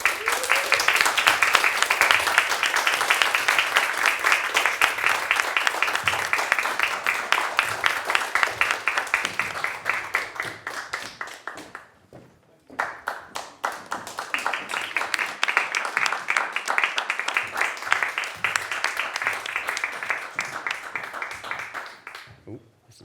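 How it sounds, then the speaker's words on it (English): Audience applause for panelists at the end of a pain education livestream event, a dense round of clapping that fades briefly, then swells again and continues for about twenty seconds. "have a big round of applause"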